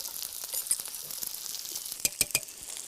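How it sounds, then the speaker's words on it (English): Cashews, almonds and currants sautéed in butter are tipped into a dish and stirred, giving a soft sizzle with scattered crackles and a few light clinks of the spoon near the end, quiet and close without talking. "These are just cashew nuts, almonds and currants sautéed in butter, okay? And we tip some of those in and stir them in."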